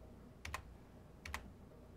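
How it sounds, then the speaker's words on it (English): Two quick pairs of key clicks from a computer keyboard as the Enter key is pressed during a WebGUI software installation, faint and close, in a quiet room without speech. "So I'll just hit enter in a lot of these keys."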